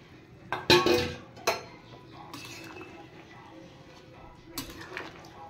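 Fried potatoes go into a pot of boiling chicken curry, bringing a few sharp clanks and scrapes of utensils against metal over a low, steady bubbling background.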